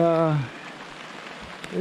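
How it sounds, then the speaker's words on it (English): Steady soft hiss of rain falling on a covered boat, with a voice speaking briefly at the start and again at the end. "Seems like it's always raining."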